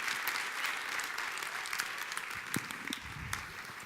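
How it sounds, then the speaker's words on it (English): Steady audience applause at the Robotdalen Innovation Award 2013 prize ceremony, a dense field of clapping that carries on throughout, with a few louder individual claps standing out. "Round of applause, please."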